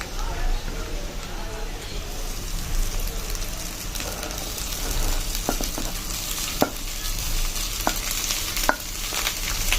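Cooked rice being stirred into frying onions for South Indian coconut rice, with a steady sizzle and a few sharp spoon clicks against the pan.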